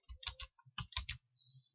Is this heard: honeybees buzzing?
no